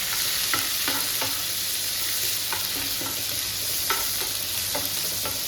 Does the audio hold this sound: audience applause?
no